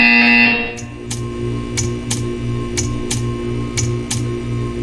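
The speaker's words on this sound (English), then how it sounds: "You will hear a buzzer." An electronic buzzer in the video game Portal 2 pulses at a steady, repeating rhythm. Short bright ticks mark each beat over a low droning hum, with no voices.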